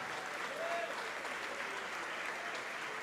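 Quiet, distant applause rises from a church congregation, a soft, steady patter of many hands clapping evenly throughout, with faint traces of voices beneath.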